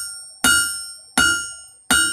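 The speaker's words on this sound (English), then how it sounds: "Meanwhile, the whole time I'm over here hammering" Hammer blows on a railroad spike being forged into a knife, three sharp ringing metallic strikes spaced roughly evenly, each decaying with a bright resonant tail, close and alone.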